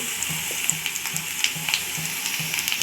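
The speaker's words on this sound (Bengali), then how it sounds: "আলুটা ভাজতে ভাজতে অনেকটা লাল হয়ে গেছে" Potatoes frying in oil for aloo phulkopi dalna, a moderate continuous sizzle with light crackles and a faint rhythmic low tapping underneath.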